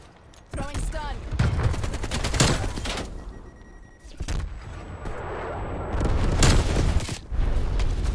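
A stun grenade detonates amid bursts of gunfire during a Call of Duty: Black Ops Cold War match, with loud blasts and rattling shots in clusters separated by brief lulls, and a player's voice speaking over parts of it.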